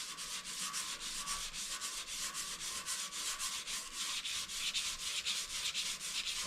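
Steady, continuous abrasive rasping from a sanding bit chucked in a drill, worked lightly back and forth over a tank's surface, with a rapid pulsing flutter from the spinning attachment throughout, close and fairly loud.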